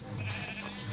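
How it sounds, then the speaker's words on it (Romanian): Sheep in the Minecraft video game give a drawn-out bleat, close and fairly loud, filling the brief moment with no talking over it. "Ia uite cum vin oile la mine."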